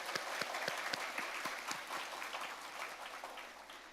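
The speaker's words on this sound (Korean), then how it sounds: "수고해 주신 모든 분들께 다시 한 번 더 뜨거운 박수 부탁드리겠습니다" Audience applause at a large religious assembly hall, a dense steady wash of many hands clapping with a few sharper claps near the front, fading slightly toward the end, with no voices over it.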